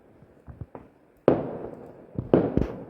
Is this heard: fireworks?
yes